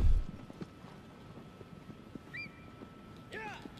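A horse in the Shadow of the Colossus remake clip-clops softly at a steady pace over windy outdoor ambience, with faint bird-like chirps in the background.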